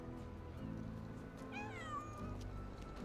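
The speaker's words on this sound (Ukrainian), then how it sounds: "Котик." A cat meows in the Sherlock Holmes video game, a single drawn-out, wavering meow rising and falling over a steady low background hum.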